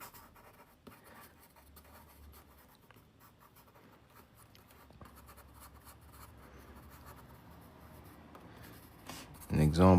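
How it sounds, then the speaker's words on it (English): A pencil sketching a quick example drawing, soft continuous scratching and short strokes on paper, faint under quiet talk, ending in a louder bump. "I'm gonna draw a quick example here."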